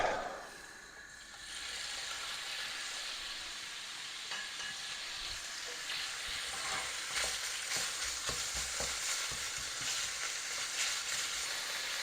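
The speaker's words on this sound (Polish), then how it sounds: "Dobrze, to smażymy." Pork shoulder fries in olive oil in a pan, a steady loud sizzle with crackling bursts and occasional stirring, heard alone without talk.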